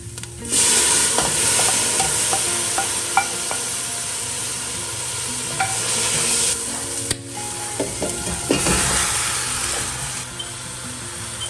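Tomatoes sizzle and fry in hot avocado oil for Vietnamese pork ribs, a steady loud crackle broken by scrapes and clacks of stirring, with a sharp burst of sizzle partway through and no talking.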